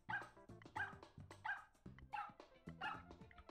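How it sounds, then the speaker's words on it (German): Undodog from Super Mario Maker barking as an undo is triggered: a run of about six quick, bright yaps in a steady rhythm, close and loud, with no talking over them. "Was wir auch mit dem Hund machen können, ist auch alles rückgängig machen."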